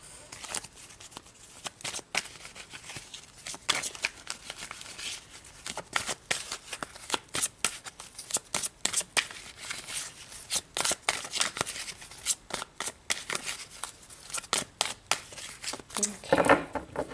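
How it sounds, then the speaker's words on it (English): Tarot cards shuffled and pulled for a love reading, a rapid run of crisp riffling flicks that carries on throughout, with a voice speaking over it. "So let's pull more cards to get more information."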